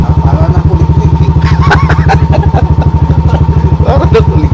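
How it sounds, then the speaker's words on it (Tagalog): Motorcycle engine idling close by with a steady rapid low thumping rhythm that stays loud throughout, while people chat over it. "Narinig ko motor eh."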